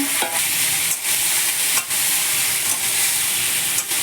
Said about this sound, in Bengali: এবার আমি এর মধ্যে দিয়ে দেবো। দিয়ে কিছুক্ষণ নাড়াচাড়া করে নেব।